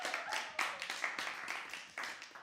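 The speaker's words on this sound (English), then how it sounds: "Another big round of applause for Esther" Applause from a poetry-reading audience for the poet Esther, quiet and somewhat distant, with irregular bursts of hand claps rising and fading across the stretch and no voices over it.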